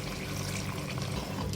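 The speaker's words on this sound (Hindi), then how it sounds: "2 टेबलस्पून पानी डालूंगी ताकि मसाले जले नहीं" Water pours into a pan of ground spices, including ginger and dry ginger powder, for chicken nihari, giving a short, close, continuous splashing sizzle with no one talking.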